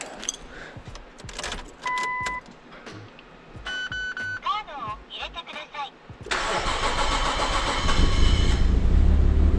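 A car engine cranks with help from a battery booster hooked to a second battery, then catches and settles into a loud steady idle, preceded by jangling keys and clatter while someone talks.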